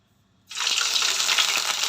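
Potato cutlets dropped into hot frying oil, a sudden loud sizzle bursting in after half a second of quiet and continuing as a steady crackling hiss.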